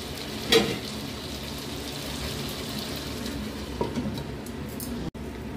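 A spice mixture frying under a lid in a covered pan gives off a steady, even sizzle throughout, close and moderately loud, with a couple of brief clunks and no talking.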